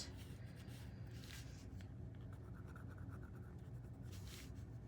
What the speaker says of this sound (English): I'm gonna sketch them in,